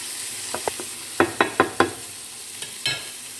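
Pork, chicken and rice frying in a pan and being stirred with a spice mix, producing a series of sharp, close scrapes and clacks, some in quick rhythmic bursts, over a faint sizzle.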